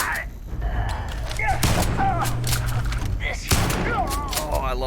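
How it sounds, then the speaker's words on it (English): Starfield shotgun combat in a space setting: heavy booming blasts punch through a busy mix of game effects and chirpy electronic sounds, with a couple of loud close thumps standing out. "Oh, I love this shotgun so much."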